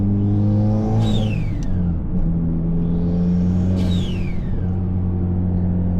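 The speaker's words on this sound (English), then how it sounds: "That is the GFB blow-off valve, and that thing sounds amazing." Two loud GFB turbo blow-off valve whooshes, each a sharp descending hiss, over a steady rumbling Hyundai Elantra N engine heard from inside the cabin.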